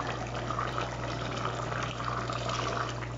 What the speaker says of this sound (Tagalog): Dinagdagan pa natin ng 1 baso tubig.